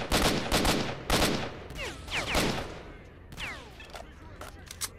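Sniper gunfire in the video game S.T.A.L.K.E.R. Shadow of Chernobyl: several sharp, loud shots crack at irregular intervals with echoing tails, mixed with other game sounds and some faint talk.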